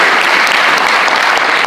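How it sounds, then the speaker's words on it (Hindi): A college poetry recital audience at a kavi sammelan claps loudly and continuously, a thick wash of close, dense applause with no pauses. "ठीक है, ताली हो जाएगी।"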